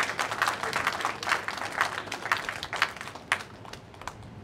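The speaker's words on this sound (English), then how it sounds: "Please give him a round of applause." An audience applauds at a book launch in Nigeria, steady broadband clapping from a fairly distant crowd that thins slightly toward the end.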